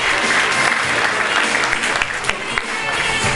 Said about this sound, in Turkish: Kuvvetli alkışlarınızla.